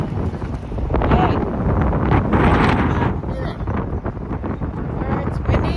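Strong gusting wind buffets the microphone outdoors during a hot hike, a continuous loud low rumble with surges, no speech.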